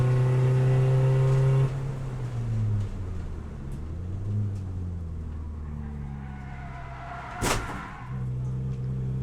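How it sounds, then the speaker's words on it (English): A Focus Cup race car at Donington Park is hit in the side by another car that locked its wheels under late braking. The engine drones loudly, dips in pitch, then a sharp bang of impact sounds before the engine note resumes. "another driver braked a bit too late, locked up his wheels and drove into the side of me"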